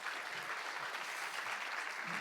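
A church congregation at a Sunday evening worship service claps steadily throughout, a dense, even wash of applause from many hands.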